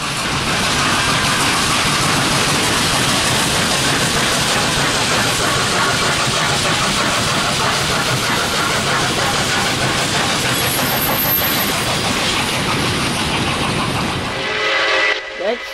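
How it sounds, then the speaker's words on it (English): A passing Nickel Plate Road 765 steam locomotive roars loudly and continuously with rattling wheels, its whistle sounding for a crossing over the rumble before the noise abruptly cuts off. "We would see it blowing for the crossing and then getting just the steam engine"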